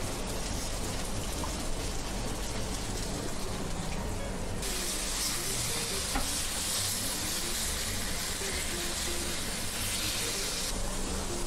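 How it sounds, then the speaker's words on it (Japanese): Japanese sansho pepper sizzles and crackles steadily in a hot pan, a dense, quiet hiss with faint pops that continues without pause. "生臭みを取るために焼いていきます"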